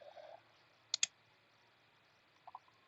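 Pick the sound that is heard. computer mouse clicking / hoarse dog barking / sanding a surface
computer mouse clicking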